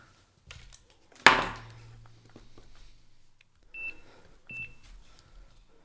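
A continuity meter beeps while cable wires are tested for an audio-over-Cat-cable pedalboard setup. Two short, steady beeps come late, after an earlier sharp knock and scattered handling clatter, close by and fairly quiet.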